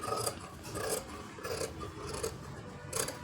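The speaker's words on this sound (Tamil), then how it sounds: "இதை வந்து கட் பண்ணி எடுத்துக்கலாம்." Scissors snipping through fabric for blouse stitching, a few close rasping cuts in a steady rhythm, with no talk.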